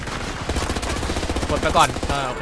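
Rapid automatic gunfire in Battlefield 2042, a dense run of sharp shots rattling continuously and loudly, with someone speaking briefly over it.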